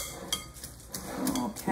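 Ripe avocado mashed for guacamole with a utensil in a bowl, heard as a few soft, scattered taps and scrapes against the bowl over a quiet, slightly muffled background.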